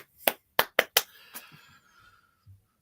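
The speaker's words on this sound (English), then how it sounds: "That's a good clap." A few sharp, close hand claps ring out in quick succession, then fade into a quiet room with faint low murmurs.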